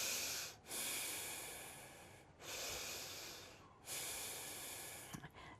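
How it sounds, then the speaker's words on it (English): Deep belly breaths drawn slowly in and out, three long airy breaths alternating with short pauses, close and fairly quiet with no talk. "try and breathe really deeply"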